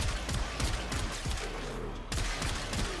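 Sustained automatic gunfire from a weapon in Warframe, a loud steady stream of shots with a brief gap near the end before firing resumes, over constant background ambience.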